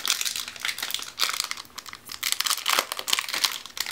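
A box of vegan protein products being opened, with steady crinkling and tearing of packaging close up, bursts of rustle repeating throughout with no talking.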